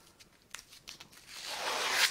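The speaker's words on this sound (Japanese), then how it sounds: "こういう状態にしてから上のテープを 剥がします" Backing being peeled off grip underwrap tape during a grip rewrap, a short close, papery rip that starts with small crackles and swells into a steady tearing hiss.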